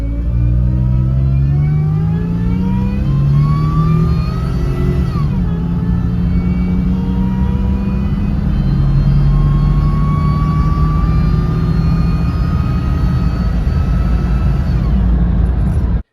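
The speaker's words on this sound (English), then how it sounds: "this is with overdrive off, and this is just for the supercharger whine" Supercharger whine from a 2001 Nissan Frontier's supercharged engine, heard from the cab with windows closed and overdrive off: a loud, steady engine drone with a thin whine that climbs in pitch under acceleration, drops briefly at a shift, then climbs again, with no talking.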